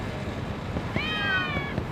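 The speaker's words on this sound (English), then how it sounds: "those are the cats" Cats meowing in the video game Lost Judgment, a single clear drawn-out meow rising and falling over about a second against a low game ambience, with no talking.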